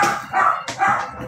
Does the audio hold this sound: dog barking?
yes